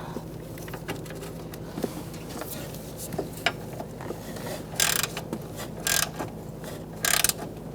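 A ratchet clicks in irregular close-up bursts while tightening transmission mount bolts on a 2012-2018 Ford Focus, with short louder metallic rattles standing out over a low background hum.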